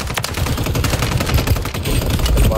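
Rapid gunfire from the video game Call of Duty on Rebirth Island crackles in dense bursts, loud and continuous throughout.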